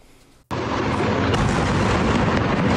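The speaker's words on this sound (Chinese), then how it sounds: "巨大爆炸声响彻云霄" A huge explosion bursts in after a brief quiet at a field hospital in northern Gaza, where fighting had broken out, followed by a sustained loud roar and rumble of heavy gunfire or shelling close by.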